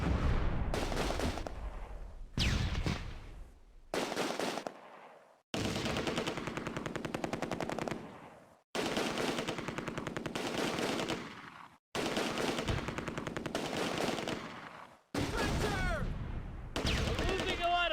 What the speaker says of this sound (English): We're under heavy fire.